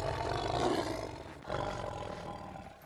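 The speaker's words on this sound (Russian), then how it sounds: "Вот с такого рычания началось наше знакомство с Михаилом." A tiger roars loudly and close at a holiday camp enclosure, a broad rasping bellow that swells, dips briefly midway, then rumbles on to the end.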